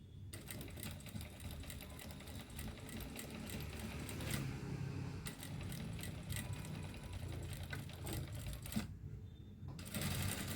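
A sewing machine stitches fabric with long stitches along the edge, a quiet rapid mechanical chatter running almost continuously with a brief pause near the end.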